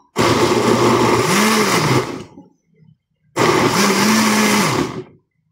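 A kitchen blender purees chopped food in two loud, close bursts of about two seconds each, the motor whirring steadily and dipping slightly in pitch as it works, separated by a brief quiet pause.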